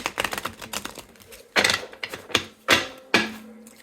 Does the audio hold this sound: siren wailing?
no